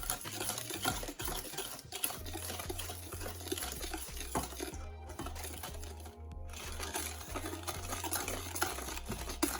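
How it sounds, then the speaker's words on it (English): Brownie batter of melted sugar and egg stirred in a bowl: a continuous, rhythmic scraping and sloshing of utensil against the bowl, close and moderately quiet, repeating steadily with brief pauses and no talk. "You have to melt the sugar really well along with the egg. Stir it well."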